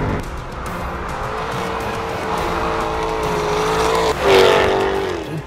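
A Jaguar F-Type R Coupe engine revs hard and close with a rising note, then a sharp burst of tire squeal near the end as the loud roar peaks.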